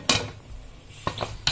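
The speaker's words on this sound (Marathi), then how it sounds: "आता आपण झाकण लावूया त्याला।" A metal lid is set onto a pressure cooker on a gas flame, without its whistle, while kharvas steams inside: three light metallic clanks and clinks spaced over a second and a half, fairly quiet and close.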